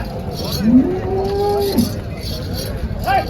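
A pregnant Malvi-breed cow gives one long, clear moo at a busy cow market in Chalisgaon, heard over steady crowd noise, with a short second call near the end.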